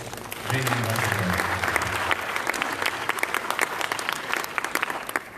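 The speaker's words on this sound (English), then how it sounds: "Please give a round of applause to the Dream Ambassador" An audience applauds at a conference session on youth, adolescent girls and women in HIV, a dense sustained clapping that tapers toward the end, with a voice briefly audible at the start.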